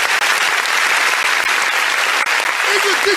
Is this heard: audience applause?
yes